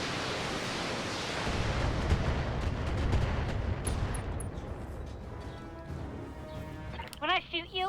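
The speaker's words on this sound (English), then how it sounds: "we have to fire the Gauss rifle at Alpha" Gauss rifle fire in the BattleTech video game, a heavy sustained blast and rumble with booming impacts, dying away as someone talks over the end.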